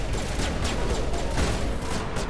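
Gunfire from a weapon in the video game Mass Effect, a dense, continuous burst of rapid shots at steady loudness throughout, with no talk over it.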